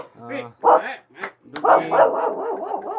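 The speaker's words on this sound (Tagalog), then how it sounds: "Oh, may aso ka pa rito ah." A dog barking at a rural house: a few sharp yelps and barks in close succession, loud and near, mixed with people talking.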